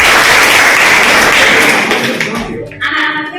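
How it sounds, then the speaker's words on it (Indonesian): High school students in a classroom clap together, a loud, dense burst of applause that holds steady and then thins out near the end as a voice comes in. "Oke, tepuk tangan sekali lagi."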